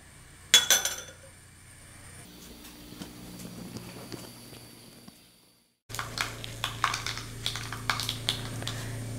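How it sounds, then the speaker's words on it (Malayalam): Mustard seeds splutter in hot sesame oil for lemon pickle, giving a quick run of irregular crackling pops. The pops grow denser and louder after a brief quiet pause, close to the pan. "കടുക് പൊട്ടിക്കഴിഞ്ഞു"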